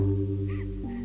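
A crow gives a short, rising-and-falling caw in the middle, with a steady low hum underneath throughout. No one speaks.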